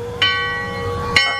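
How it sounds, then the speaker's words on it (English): A bell rings twice at Magic Kingdom, each a sharp clear strike followed by a long ringing tone that fades slowly, close and fairly loud. "It's the bell this time."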